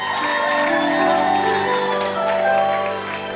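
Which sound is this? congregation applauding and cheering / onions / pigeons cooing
congregation applauding and cheering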